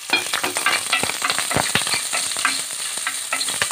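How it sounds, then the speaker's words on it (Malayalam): Ginger, onion, green chilli and garlic sauté in a pan as the base for a drumstick-leaf pulissery, giving a steady, close sizzle broken by frequent sharp clicks and scrapes of stirring. "ഇഞ്ചി, ഉള്ളി, പച്ചമുളക്, വെളുത്തുള്ളി, ഇത്രയും സാധനം അങ്ങോട്ട് ഇട്ട് കൊടുക്കുവാണേ. എല്ലാം ഒന്ന് വാടിക്കോട്ടെ."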